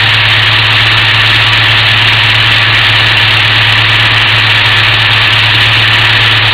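A car engine idling at a steady, loud drone with a constant low hum and broadband rumble, close by and unchanging, no talk.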